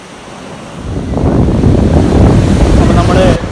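Surf rolling in at Shanghumukham beach, a steady broad wash of breaking waves that swells louder after the first second, with wind buffeting the microphone throughout.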